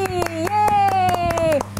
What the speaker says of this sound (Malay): Berikan tepukan untuk diri sendiri